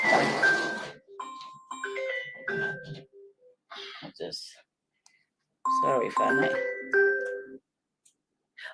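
A new Samsung S22 mobile phone rings with a bright melodic ringtone in short bursts, pausing and then resuming, while a person speaks briefly between the tones.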